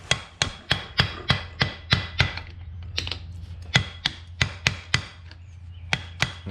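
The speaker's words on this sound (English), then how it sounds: "take a hammer or something and try and attempt to tap it out" Sharp metallic hammer taps on a stuck Honda CR-V axle ring out one after another in a steady rhythm, about a dozen strikes close by, with a low hum underneath.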